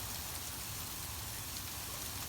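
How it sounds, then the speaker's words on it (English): Steady dense patter of hail pellets falling outdoors in Canada, sounding much like heavy rain, continuous and fairly soft with no voices. "It's hailing, guys"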